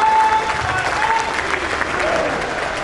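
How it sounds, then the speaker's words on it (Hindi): A large audience applauds on stage at the Vibrant Gujarat Global Summit as the Prime Minister is welcomed, a dense, steady wash of clapping that stays loud and even throughout, with no speech over it. "आइए एक बार फिर तालियों की बौछार से मंच पर स्वागत करते हैं माननीय प्रधानमंत्री श्री नरेंद्र मोदी जी का।"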